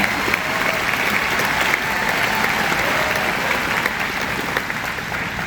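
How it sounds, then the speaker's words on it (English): Audience at a high school graduation ceremony applauds the choir with a steady, dense wash of clapping that holds at an even level throughout, with a faint murmur of crowd underneath. "we need to give another round of applause to the choir"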